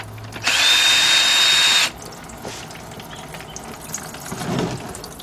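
A power tool spins out a transmission pan bolt on a Chrysler Sebring or Dodge Journey/Avenger, giving one loud, steady whir of about a second and a half, followed by faint clinks and rustling.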